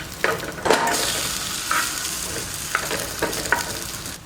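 Bread egg roast fries in a pan with a continuous close sizzle, broken by a few short scraping stirs of a spatula.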